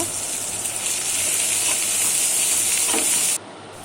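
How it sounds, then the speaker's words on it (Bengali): Onion, garlic and chili frying in hot oil give a steady, close hiss and sizzle that runs unbroken, then drops abruptly near the end. "তেল দিয়ে দিছি এখন পেঁয়াজ পেঁয়াজ কুচি রসুন কুচি মরিচ দিয়ে একটু কষিয়ে নেব"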